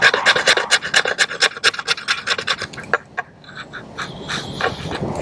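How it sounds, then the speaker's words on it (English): The spine of an Old Timer Large Sharpfinger knife scrapes fat wood in quick repeated rasping strokes, close and loud, then slows into softer scratching near the end. "Let's just see if it'll scrape any of this fat wood here."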